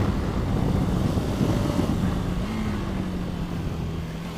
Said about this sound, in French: Allez, on met un peu les gaz.